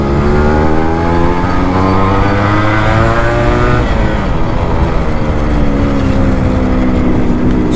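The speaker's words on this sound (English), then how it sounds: "I stopped for you guys to listen to the beautiful sound of the RX." A restored Yamaha RX two-stroke motorcycle engine revs loud and close, pitch sweeping up and down through several rev-matching blips with a steady harmonic drone and no talking.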